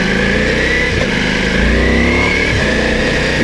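A Ducati Multistrada V4 S motorcycle engine revs hard and climbs in pitch as it accelerates uphill in first gear, loud and close, with a brief dip as the quickshifter shifts.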